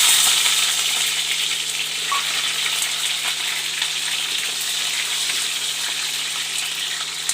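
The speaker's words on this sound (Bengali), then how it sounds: "ক্যাপসিকামটা একটু ভেজে নেব।" Capsicum sizzles steadily in a hot pan, a dense continuous frying hiss at close range, loud and even throughout with no talking.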